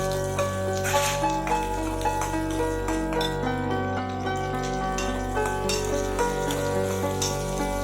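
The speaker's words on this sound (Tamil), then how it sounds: "அப்படியே பூண்டையும் சேர்த்து நல்லா வணக்குங்க" Garlic sautéing in a pan for onion chutney, a dense, even sizzle close by with occasional light utensil scrapes and no voices.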